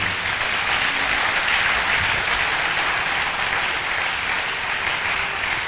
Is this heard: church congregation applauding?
yes